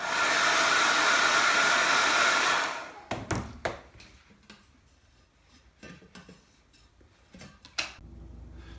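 A heat gun warms Mossy Oak camo material wrapped around a stainless steel tumbler, giving a loud, steady blowing roar for nearly three seconds before it cuts off, followed by scattered clicks and light handling knocks.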